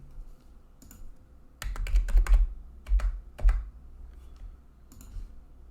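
Typing on a computer keyboard with mouse clicks during setup of a cloud service: a quiet start, then a burst of sharp, close keystrokes in quick clusters, a few isolated clicks, and a faint last tap, with no talking.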